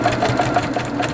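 A sewing machine stitches a fabric table topper in a quick, steady rhythmic chatter of needle strokes, close and continuous.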